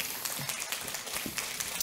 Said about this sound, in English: A nice applause.